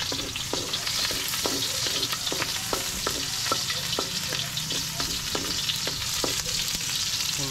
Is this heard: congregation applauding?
no